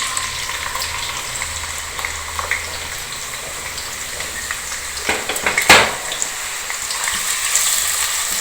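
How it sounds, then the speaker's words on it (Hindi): Chopped onions sauteing in hot oil in a karahi, a continuous bright sizzle filling the clip at close range, with a few scraping stirs partway through. "प्याज को थोड़ा सा सौते करना है।"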